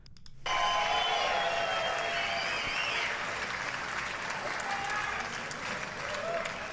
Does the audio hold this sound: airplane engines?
no